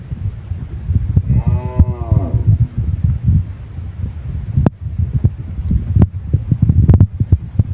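A dairy cow at a farm sale lets out one drawn-out moo early on, over steady wind noise, with scattered knocks and hoof or handling clatter afterward; no one speaks.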